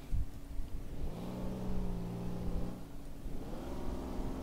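An ACF armored car in GMod driving along, its mid-pitched engine droning steadily and rising and falling in revs through a CVT transmission, close and continuous with no talk.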